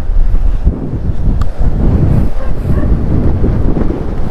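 Strong afternoon wind in San Nicolas, Pangasinan, roars and buffets loudly against the microphone in heavy continuous gusts, with a few brief dips in force.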